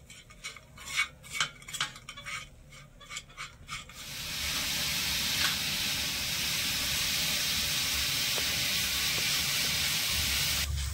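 Grated coconut and jaggery filling cooks in a pan, first with several rhythmic scraping stirs, then settling into a steady close hiss and sizzle that runs on without voices.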